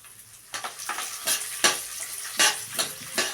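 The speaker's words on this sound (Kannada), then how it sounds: "ಆಮೇಲೆ ಉದ್ದಿನಬೇಳೆ ಹಾಕಿ ಗೋಲ್ಡನ್ ಬ್ರೌನ್ ಬರೋವರೆಗೂ ಫ್ರೈ ಮಾಡ್ಕೋಬೇಕು." Urad dal frying in hot oil in a kadai, steady sizzling under repeated scraping strokes of a spoon, about seven rhythmic stirs close by, no voices.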